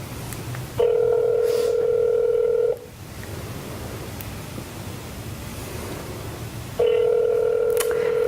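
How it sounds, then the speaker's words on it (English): Two long ringback tones from a phone line sound two seconds each, separated by a few seconds of quiet hiss, heard close and clear. "It's ringing."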